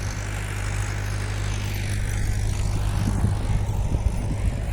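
A tractor works on a village road, its low diesel engine rumbling steadily and fairly close under broad outdoor noise.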